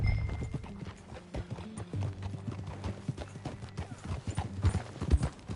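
Horse hooves clip-clopping in Red Dead Redemption II, a brisk uneven run of close, loud hoof strikes on the ground, with a faint low rumble beneath.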